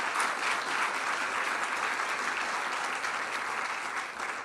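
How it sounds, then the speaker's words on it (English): An audience applauds General Dunwoody, the first female four-star general, at an event for American servicewomen: dense, sustained clapping from a large crowd that tapers slightly at the end. "I want to thank General Dunwoody, the nation's first female four-star general, which deserves its own round of applause."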